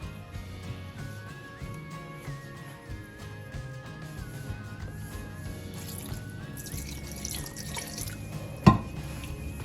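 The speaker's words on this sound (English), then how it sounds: "I'll continue to add a little bit of water because we want the yeast to be activated" Water trickles and drips steadily as it is poured into a yeast mixture for Ghanaian puff puff (bofrot) dough made with condensed milk, heard under a constant music bed, with a sharp knock near the end.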